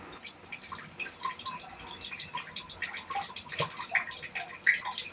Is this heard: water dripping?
yes